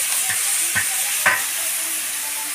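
Food cooks in a large wok on a wood-fired stove at a ceremonial feast, with a constant close sizzle and three distinct scraping stirs of a big ladle.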